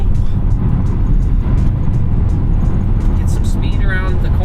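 A Tesla Model 3 Highland Performance accelerating at full throttle on a curvy road, with a loud, steady rush of road and wind noise and a faint rising electric whine near the end.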